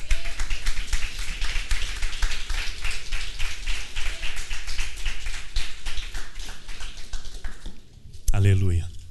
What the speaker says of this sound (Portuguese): Aplauda ao Senhor.